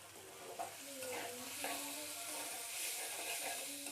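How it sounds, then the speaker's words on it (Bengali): Panch phoron, two bay leaves, chopped ginger, green chilli and onion fry in oil for a samosa filling, a steady close sizzle with repeated scraping stirs of a spoon against the pan. "প্রথমে সিঙ্গারার পুরটা বানানোর জন্য 5 ফোড়ন, 2টা তেজপাতা, আদা কুচি ও সামান্য কাঁচামরিচ এবং পেঁয়াজ দিয়ে ভালো করে এটি ভেজে নিব।"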